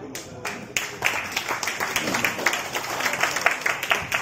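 Audience applause at a school alumni association founding ceremony, with many hands clapping in a dense, moderately close patter that rises after a brief start and holds steady.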